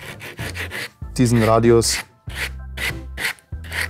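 Hand sanding of wood using 120-grit sandpaper wrapped over a dowel to shape a radius: repeated rasping strokes in a steady rhythm, close and fairly loud, with someone speaking briefly between strokes.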